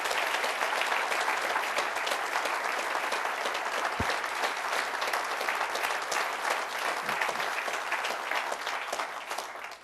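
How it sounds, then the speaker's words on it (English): Long, steady applause from a crowd at Covington, Kentucky's 2012 State of the City address, honoring a city staff member and her team, evenly loud for nearly ten seconds with no talking. "let's give Mary and her team a round of applause"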